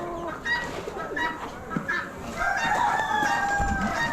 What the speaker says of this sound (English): Another crate of roosters.